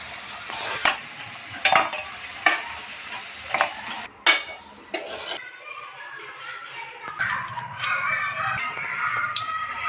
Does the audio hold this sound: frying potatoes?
yes